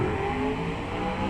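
A race car engine in the Automation game, a 1985 IMSA GTO-style build, revs hard at full throttle with tires spinning, a steady loud, dense drone held throughout with no talking.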